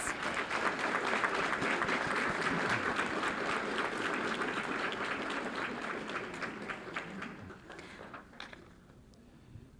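A round of applause at a Fort Worth school board meeting honoring a student robotics team, sustained crowd clapping that gradually thins and fades out toward the end.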